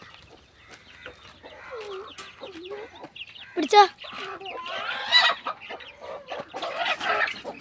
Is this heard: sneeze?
no